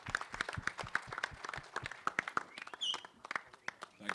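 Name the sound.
audience applause at trailer launch event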